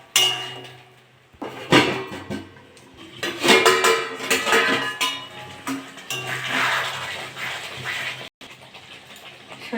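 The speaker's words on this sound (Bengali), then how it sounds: "একটু নেড়ে চেড়ে নেবো।" Pointed gourd simmering in mustard sauce with a little water and sugar is stirred in a pan, a spoon or spatula scraping and clinking against the metal in irregular bursts, close and fairly loud, with no talking.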